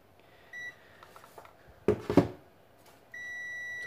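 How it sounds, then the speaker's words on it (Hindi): A clamp meter set to continuity test gives several short electronic buzzer beeps with a steady tone, close and clear, with faint handling clicks between them and no talking. "इसमें एक जो इसका बज़र है वो आपको आवाज़ देगा"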